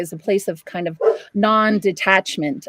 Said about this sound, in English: my apologies for my dog